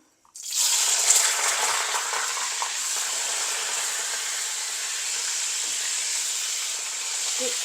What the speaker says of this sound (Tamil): இந்த கத்திரிக்காவும் ஃப்ரை ஆகிடுது